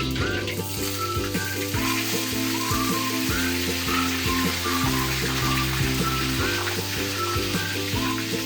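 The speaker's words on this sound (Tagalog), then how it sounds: "Prito na natin ang ang ating manok." Chicken pieces fry in hot oil with a steady, dense sizzle and crackle that runs continuously throughout, close and loud with no voices.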